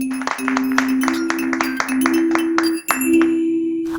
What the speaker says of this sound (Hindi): चुन्नू बहुत खुश होकर तालियां बजाने लगा